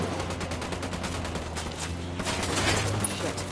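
Steady gunfire from a PS4 shooter game, a dense run of shots continuing throughout at a constant loud level, with a low hum of game sound beneath.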